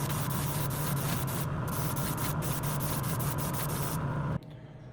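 An airbrush spraying polyacrylic thinned by ten percent onto a handmade crankbait fishing lure, a steady close hiss that runs almost four and a half seconds before cutting off to faint background noise.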